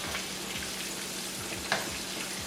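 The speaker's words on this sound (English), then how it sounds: "So I'm gonna flip them to the other side and get that side nice and crispy as well" Battered shrimp fry steadily in a pan for crispness, a constant sizzle with a single sharp tap near the end as pieces are flipped.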